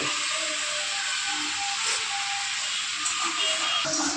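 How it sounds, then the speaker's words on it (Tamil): A pressure cooker steams on the stove while chickpea sundal cooks, giving a steady, broad hiss that holds level throughout, fairly soft and close, with faint kitchen clatter underneath. "அந்த பக்கம் குக்கரில் சுண்டல் வந்துட்டுருக்கு"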